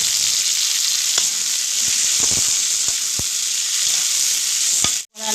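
Potatoes and tomato fry in oil in a pan for chana masala, a loud, steady close-up sizzle broken by a few sharp spoon taps and a brief drop-out near the end.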